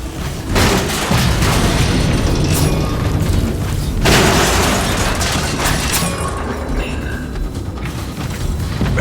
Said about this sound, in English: Make sure those cannons are fed and firing all the time.